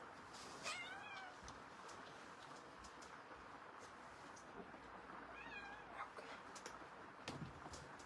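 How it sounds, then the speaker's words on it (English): A house cat meows twice, a short call near the start and another later, faint against a soft steady room hiss beside an Angora fibre spinning wheel. "And then of course the cat's going to come over here."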